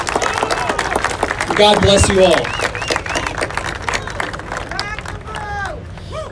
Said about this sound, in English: can we please have a round of applause for the many police officers who are here today?